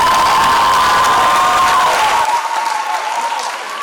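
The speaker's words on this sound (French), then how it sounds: "Je vous demande d'applaudir très très fort." A crowd at the final of an inter-school theatre competition applauds loudly and cheers as a prize winner steps up to the podium. The sound is dense and sustained, with a steady ringing tone running through it, and eases off slightly toward the end.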